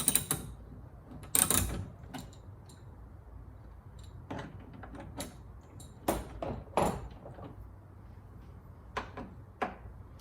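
A 10mm ratchet works screws out of a 2015 Lexus GX460 door panel, giving faint clicking bursts and metallic taps spaced across a quiet background, with a few louder handling knocks.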